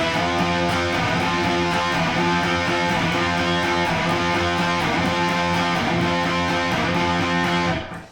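Electric guitar playing an extended slide passage slowly, a steady run of sustained notes with no talking, ending abruptly near the close.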